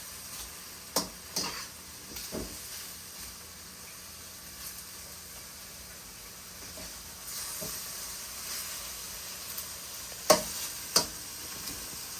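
Pork and onions stir-frying in a pan for a snow pea dish, giving a soft, continuous sizzling hiss close by, with occasional sharp clacks and scrapes from a utensil stirring the pan, and no talking.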